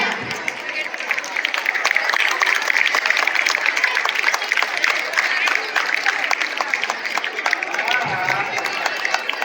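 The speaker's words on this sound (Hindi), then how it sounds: "हमारे स्कूल के बच्चों की तालियां तो बिल्कुल भी नहीं रुकनी चाहिए" Applause from a school audience at an annual function, a dense and steady wash of many hands clapping with crowd noise for the full stretch. No voices stand out above it.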